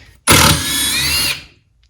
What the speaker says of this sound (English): I'm gonna pull this screw out here.